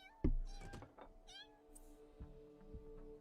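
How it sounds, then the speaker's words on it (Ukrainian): A cat in The Sims 3 gives a couple of short, clear meows after a sharp thump, fairly close and alone, followed by quieter background game sounds. "Котик. Ти що? Кіт? Прям кіт?"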